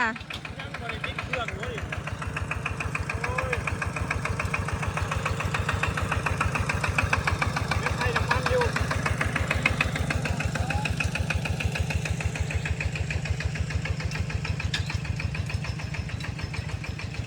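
A vehicle engine runs steadily and close by at a house demolition site where timber is being hauled away, its rough, even pulsing continuing throughout with faint voices over it.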